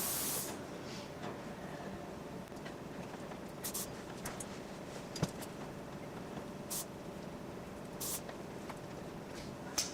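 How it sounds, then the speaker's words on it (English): Hair spray hisses continuously with short louder bursts scattered across the clip, steady and close, no voices. "Spray again, man."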